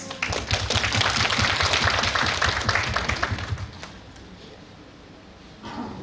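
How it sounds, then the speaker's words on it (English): An audience claps in congratulation, a dense, vigorous round of many hands that carries for about four seconds before thinning to scattered claps and fading out. "We can clap for you."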